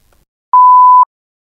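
An answering machine gives one steady electronic beep, loud and close, about half a second long, with silence before and after.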